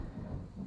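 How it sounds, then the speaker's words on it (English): Low rumbling thunder rolls steadily with rain beneath it, a dense continuous boom filling the brief moment with no voices. "every time I do a song, like the thunder comes"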